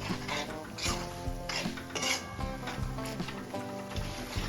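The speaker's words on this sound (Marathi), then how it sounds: "आता आपल्याला मसाला छान मिक्स करून घ्यायचा आहे आणि मसाला छान परतून घ्यायचा आहे" Spoon scraping and clattering against a metal pan as masala is stirred and sautéed for a village-style spicy crab curry, with repeated knocks and a faint sizzle underneath.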